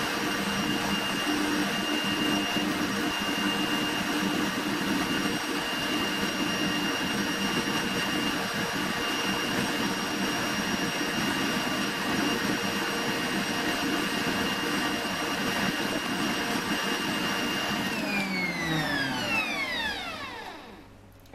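Electric mixer creaming coconut oil for vegan chocolate chip cookies, a loud steady motor whine running continuously, then winding down in pitch and fading as it is switched off at the end.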